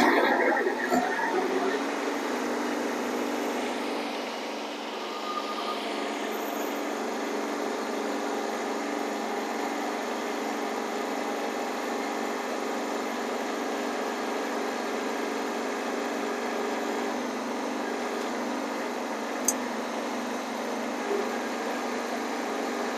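Kubota B Series compact tractor engine held near full throttle at 540 PTO RPM while lifting a load, a steady sustained drone close by after an initial louder start, continuing evenly for over twenty seconds.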